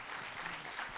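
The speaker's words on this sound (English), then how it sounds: "I think we should have another round of applause" Audience applause at a film Q&A with director Arnaud Desplechin for 'My Golden Days', a steady wash of clapping filling the whole short moment.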